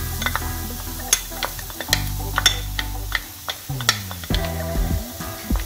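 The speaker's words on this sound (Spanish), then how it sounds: "Ya está el aceite caliente, vamos a añadir los 3 dientes de ajo picado" Three cloves of minced garlic hit hot oil in a pan, giving a soft sizzle under scattered clicks and scrapes of stirring, with a few ringing, tonal clinks in between.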